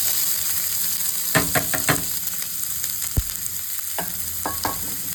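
Chopped onion frying in oil in a pan and being stirred, a steady sizzle broken by a few sharp scraping knocks of the spoon near the start and more toward the end.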